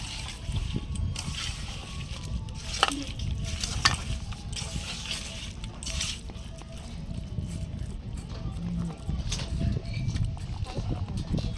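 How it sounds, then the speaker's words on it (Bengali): Chicken pakora ingredients, including soy sauce, are stirred and mixed together in a bowl, giving wet, squelchy scraping and sloshing sounds that continue irregularly, close by, with light clinks over faint background noise. "এবার আমি সব একসঙ্গে ভালো করে মিশিয়ে নেব বন্ধুরা।"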